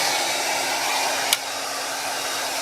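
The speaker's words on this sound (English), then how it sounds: "And in using a hair dryer, be sure that you don't keep it on hot, you keep it on warm" A hair dryer on warm blows steadily while drying a Yorkshire terrier after a bath, a constant whooshing roar, close and loud, with one brief click partway through.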